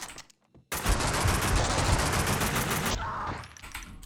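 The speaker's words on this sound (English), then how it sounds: "So I want to keep shooting a bit more." Sustained rapid automatic gunfire fills most of the stretch in Max Payne 2 during a boss fight, loud and dense after a brief quiet start, then dropping off into sparser shots and ambience near the end.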